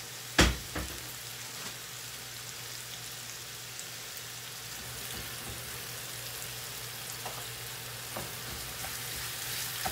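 Kofta mince stirred into a sizzling pan with other fillings, a steady soft frying hiss throughout with a sharp knock near the start and occasional faint spoon scrapes; no voices.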